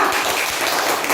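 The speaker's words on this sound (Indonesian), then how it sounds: "Ya, kasih tepuk tangan untuk kelompok 2." A classroom full of students applauding a student group, dense steady clapping that fills the short stretch at close range and fairly loud.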